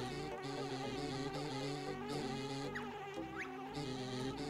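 Buzzing swarm of red, green and blue bees in the Banjo-Tooie shooting minigame, a dense, steady insect-like drone with bright layered game sounds and occasional shot zips throughout, loud and continuous with no talk.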